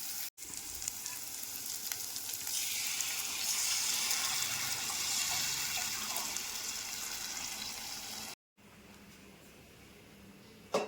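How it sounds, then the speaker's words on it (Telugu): Tamarind broth poured into a hot pan of fried tomato paste sets off a loud, steady sizzling rush that lasts several seconds before cutting off abruptly. "ఇప్పుడు పులుసుని ఇందులో పోసేద్దాం"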